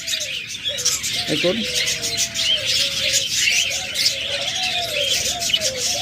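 Caged budgerigars in a pet bird sale chirp and warble in short tonal calls, with a brief coo-like phrase; someone talks over the busy, close bird chatter.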